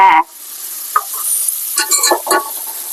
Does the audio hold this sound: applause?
no